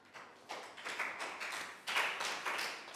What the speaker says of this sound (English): Big high five for Lakgao and round of applause